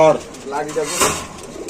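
Large Lahori pigeons at a pigeon sale coo in low, throaty bursts close by, with a brief higher chirp in the middle and a voice in the background.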